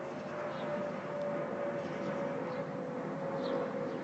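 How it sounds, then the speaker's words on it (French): A small airplane flies near a supercell thunderstorm near Frépillon, Île-de-France, giving a steady distant engine drone with a sustained tonal hum over a low rumbling background, with no speech. "vous avez un petit avion qui vient chasser la foudre"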